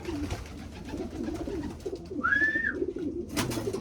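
Pigeons coo in low, soft, repeated murmurs close by, with one brief higher chirp standing out midway.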